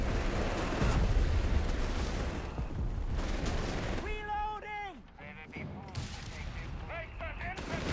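Rattling bursts of MG42 machine gun and G43 rifle fire crackle across a Company of Heroes 3 battlefield, dense overlapping shots and impacts with a mechanical whine cutting through midway, moderately loud and continuous.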